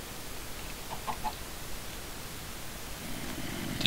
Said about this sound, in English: There's a chicken right there too.